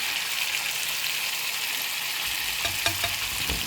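Shrimp added to a hot pan beside catfish sizzle steadily up close, a dense crackling fry with a few sharper pops and stirring clicks toward the end.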